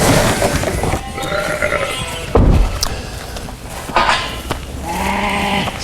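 Sheep bleat repeatedly at an outdoor sheep handling unit at an agricultural college, several wavering calls at close range mixed with thuds and general farmyard noise.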